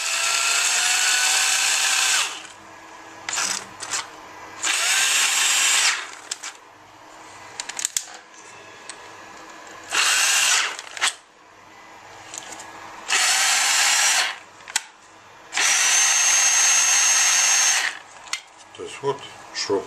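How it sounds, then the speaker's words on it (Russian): A cordless screwdriver powered from a computer power supply whirs loudly in repeated bursts of a few seconds each, separated by short pauses. "Вот шуруповерт работает от компьютерного блока питания."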